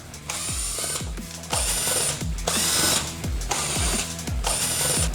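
A tool backs T20 screws out of the airbox clamshell on a Triumph Daytona 660, making several close, sharp ratcheting bursts in a regular rhythm with short pauses between them.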